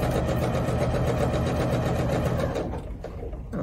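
A sewing machine runs steadily while stitching a stocking around a curve, a loud, close, even mechanical whir that eases and slows near the end as the presser foot is lifted and lowered.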